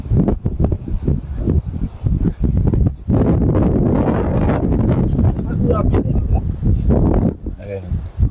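Cold wind gusts buffet the microphone outdoors near Nagoya Castle in Japan, a steady rumbling roar of wind noise running under a person talking throughout.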